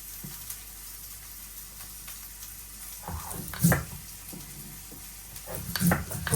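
Chopped onion frying with mustard and cumin in a pan for a sea fish curry, a steady low sizzle that swells into louder crackling bursts with stirring, no voices.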